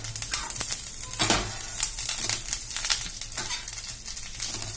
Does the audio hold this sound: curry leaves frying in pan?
yes